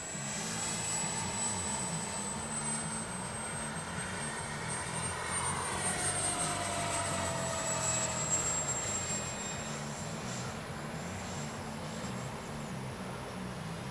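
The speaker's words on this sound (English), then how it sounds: "Taking off, right to left." A Freewing F-22 RC jet takes off from right to left, a steady high-pitched ducted-fan whine with continuous rushing noise, moderately loud and sustained throughout.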